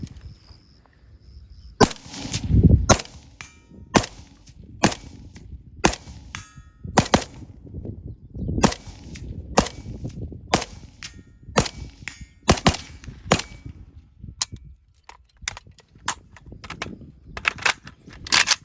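Bulgarian AK-74 (AKS-74) rifle fires a series of sharp, loud single shots and short bursts at an outdoor range, with uneven gaps and ringing echoes between reports.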